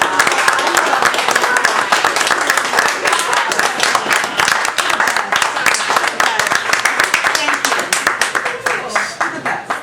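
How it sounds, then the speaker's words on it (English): Loud, close audience applause for a group of young ladies at an evening gathering, with many hands clapping in a dense, slightly rhythmic patter that swells and pulses across ten seconds. "Let's give them all a round of applause."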